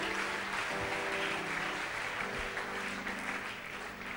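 A church congregation at a Sunday service claps together, a sustained wash of applause under a sustained musical tone, fairly loud and steady throughout.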